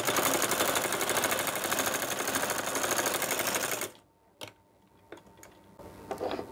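A sewing machine stitching palazzo pants runs loud and close with a rapid steady clatter for about four seconds, then stops, leaving a few faint clicks and handling sounds.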